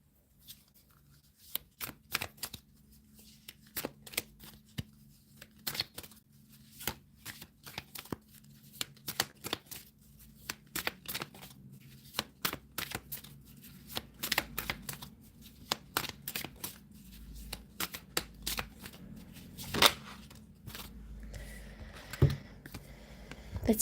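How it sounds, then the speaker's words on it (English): Tarot deck being shuffled and handled, a steady run of soft rapid card flicks and taps, close and fairly quiet, with a few louder slaps near the end. "Let's get some cards for the outcome."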